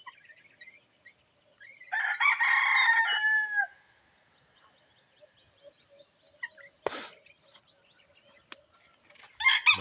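A rooster crows once loudly and nearby among a flock of chickens in a rural yard, followed by a sharp brief squawk and scattered soft clucks in otherwise quiet surroundings.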